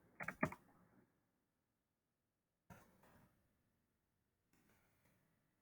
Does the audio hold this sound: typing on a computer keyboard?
yes